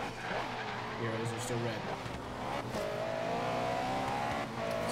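Cars skid and rev in a video game street race driven as a 1997 Honda Civic, engine drone and tire noise running steadily under frequent excited talk.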